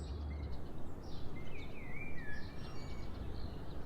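Birds sing in a calm outdoor setting by the ocean, with several thin chirping whistles rising and falling over a soft, steady background wash, quiet and somewhat distant, with no voices.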